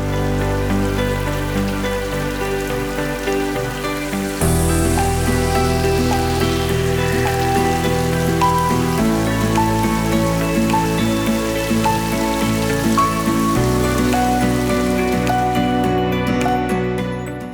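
Steady rain falls with a dense, even hiss that runs unbroken throughout, laid under soft sustained background music whose chords shift every few seconds.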